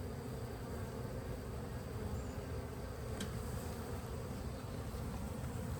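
A steady, dense hum of many honeybees buzzing close by around an open hive during inspection, continuous and even, with no talking.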